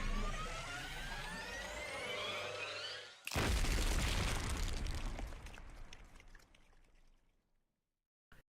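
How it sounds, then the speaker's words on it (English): A video game bomb explodes inside a gym, a sudden loud blast that rolls into a long, roaring echo and slowly fades to near silence, ending with a brief sharp thud. "A vicious explosion echoed through the gym"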